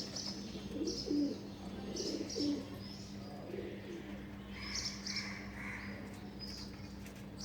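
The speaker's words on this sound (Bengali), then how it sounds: "সকাল সকাল ঘুঘুর ডাক, কবুতরের ডাক।" Doves and pigeons coo on a cold winter morning, a few low rolling calls early on, then quieter chirps and tweets, set against a steady low hum.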